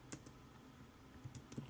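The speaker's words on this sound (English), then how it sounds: "all I have to do is type in a message in the send message box" Faint keystrokes on a computer keyboard tap out a chat message in two short bursts of a few clicks each, separated by a quiet pause.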